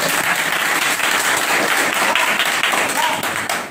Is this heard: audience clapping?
yes